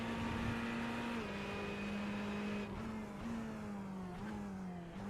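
Ferrari GT3 race car in a racing sim, a loud nasal engine note holding high revs, dipping on shifts and lifts, then climbing again through the gears, close and continuous.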